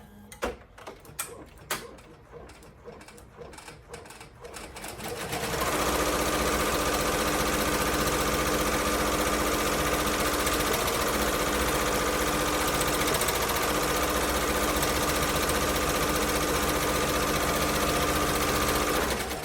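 A Ricoma EM1010 embroidery machine stitches stripes on an animal-print key chain, starting with a few sharp clicks before settling into a loud, steady mechanical whir that runs continuously, close and alone.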